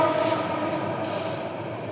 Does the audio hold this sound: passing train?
yes